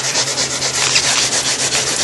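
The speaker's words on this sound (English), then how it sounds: "Stay in this area and scuff this down really good." A Corvette C6 door surface is scuffed by hand before a door guard is fitted, with close, loud, rhythmic abrasive rubbing strokes repeating steadily.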